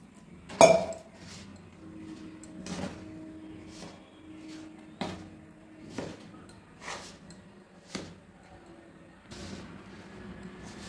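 A metal spatula works hot rice flour mixed with water in a pan, giving a series of sharp scrapes and clinks against the pan at uneven intervals, with quiet gaps between strokes.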